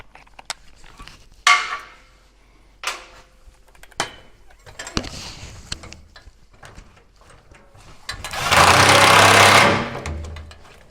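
Work on a clamp-on exhaust kit for a Ford 6.2L or 7.3L truck, where scattered metallic clicks and knocks are followed by a loud buzzing burst of a power tool driving the clamp bolt, close up.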